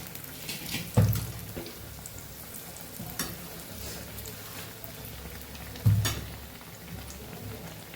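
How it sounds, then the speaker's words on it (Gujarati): Pakoda bites fry in oil with a soft, steady bubbling sizzle, broken by two sharp clatters of stirring or turning, quiet and close with no talking. "ઉપરથી આપણે ક્રિસ્પી એવા થાય ત્યાં સુધી એને તળવાના છે"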